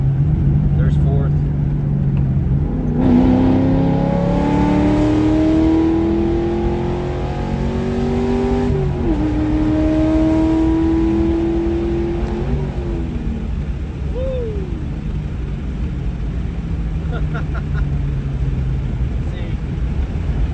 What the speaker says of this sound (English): We'll do a quick downshift real quick.